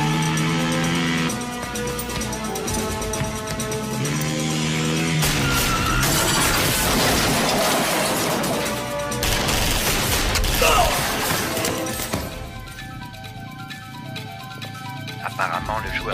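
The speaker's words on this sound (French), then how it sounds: "On dirait une fusillade." Gunfire in a French thriller film, with bursts of shots and crashing impacts mixed into dense action noise and score, loud and chaotic, with scattered voices.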